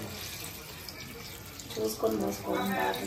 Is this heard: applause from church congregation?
no